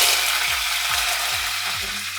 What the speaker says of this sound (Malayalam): കടുക് പൊട്ടിയതിനു ശേഷം കറിവേപ്പില ഇടാം.